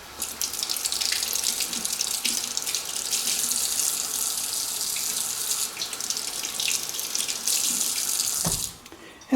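A tomato's pulp is rinsed out under a running kitchen tap, a steady close hiss of flowing water that continues for most of the time, then stops abruptly near the end.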